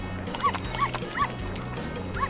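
A dog in a doll craft cartoon barks four times at a steady, evenly spaced rhythm, short sharp yaps standing out over a low, continuous background hum.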